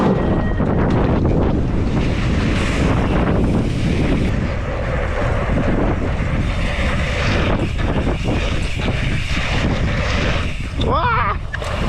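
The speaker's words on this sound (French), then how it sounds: "Il y a du vent de face, genre face première ligne, face troisième." A strong headwind buffets the microphone of a BMX rider, a loud, continuous roaring rumble that fills the whole stretch with only slight dips.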